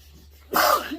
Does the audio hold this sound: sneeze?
yes